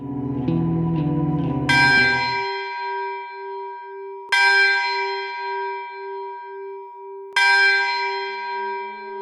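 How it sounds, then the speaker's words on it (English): A California mission church bell tolls three times at slow, even intervals, each strike ringing out loud and clear with a long sustained hum, following a brief burst of music at the start. "Daily life within a California mission was ruled by the bells."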